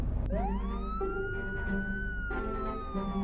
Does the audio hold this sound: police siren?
yes